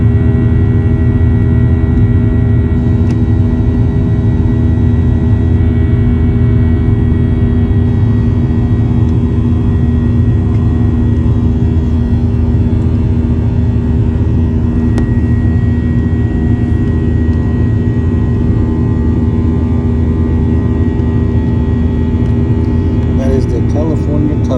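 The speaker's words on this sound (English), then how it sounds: "So anyways, we're taxiing out," An airplane taxiing out, with a loud, steady jet engine drone and a constant low rumble filling the whole stretch, close and unchanging.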